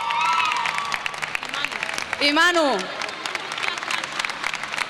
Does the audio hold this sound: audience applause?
yes